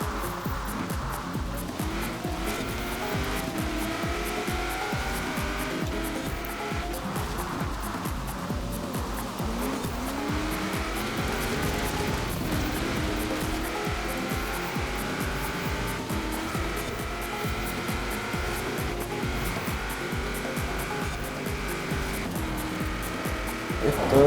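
A widebody 1997 Mazda RX-7 racing on a wet track in Forza Horizon 4, its engine droning loud and continuous with rising and falling revs, shifts and faint tire hiss throughout.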